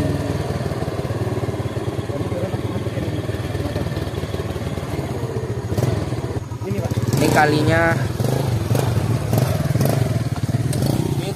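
A motorcycle engine running steadily near rice fields, a close, rumbling, even idle throughout, with people talking over it and a brief clatter as the sound shifts partway through.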